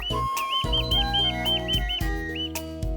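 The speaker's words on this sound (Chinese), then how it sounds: "吹响笛子，就像小鸟在枝头上鸣叫" A bamboo bird whistle topped with a pongame seed pod shaped like a little bird gives several bright, warbling chirps in short bursts, close and clear, with no talk.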